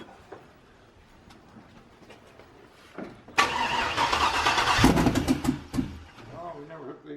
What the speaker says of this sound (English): You wanna try and fire it up?